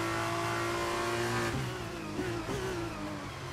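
An F1 race car in the F1 23 video game accelerates down a straight to overtake, its high-pitched engine holding a steady whine, then shifting up through gears with quick pitch drops, close and loud with no talk.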